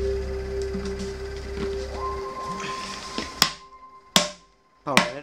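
Three sharp knocks ring out as a 1.5 inch to 1 inch PVC pipe reducer fitting is pounded into place, spaced unevenly and close, following a stretch of background hum.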